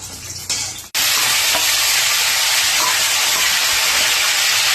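Mint leaves and green chillies hit hot oil in a pan with a sudden loud burst of sizzling that holds as a strong, continuous crackling hiss, after a brief quieter stretch of stirring.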